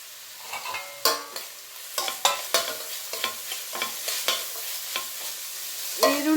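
Onions sizzle in hot oil with curry leaves for a tangy okra gojju, with repeated scraping stir strokes of a spoon against the pan at an irregular rhythm over a steady close fry hiss.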